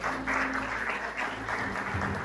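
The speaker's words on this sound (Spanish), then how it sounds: "Denle un aplauso al Señor." A church congregation claps in sustained, even applause filling the room, a continuous dense patter heard at moderate distance without pause.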